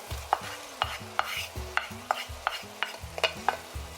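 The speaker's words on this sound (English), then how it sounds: "I'm just trying to break up the spinach." Frozen, drained spinach is broken up in a cooking pan with a series of sharp spoon clacks and scrapes at an irregular rhythm, close and fairly quiet, with no talking.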